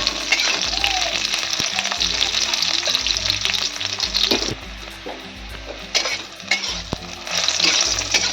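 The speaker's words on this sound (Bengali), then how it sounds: "উচ্ছেটা আমার ভাজা হয়ে গেছে, আমি তুলে নেব।" Long thick-cut bitter gourd pieces fry in a pan, a loud close sizzle with spatula scrapes and a few metal clinks, dipping briefly as the pan is handled.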